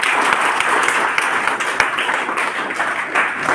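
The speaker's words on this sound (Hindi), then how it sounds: "एवं के लिए तालियां होता है" Dense crowd clapping at an indoor motivational seminar, a steady roar of many hands with a few sharper individual claps, fairly close and continuous.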